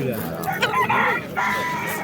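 Rooster crowing at a poultry market in Fergana, a loud nearby cry amid crowd noise and chatter.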